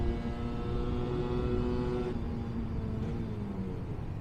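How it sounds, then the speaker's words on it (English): A Lambretta RB20 scooter engine holds a steady, loud drone with rising harmonic tones as the throttle is twisted, then eases slightly partway through, continuous and close. "So if I twist the throttle, there you go."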